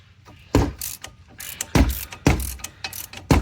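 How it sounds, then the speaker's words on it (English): A 19 mm socket ratchet clicks in short bursts on a brake caliper bracket bolt of a 2008 Chevrolet Aveo during front rotor replacement, close and loud with pauses between strokes. "to open this up, you need a 19 mm socket or torque wrench"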